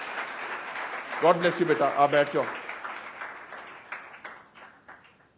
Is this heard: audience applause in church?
yes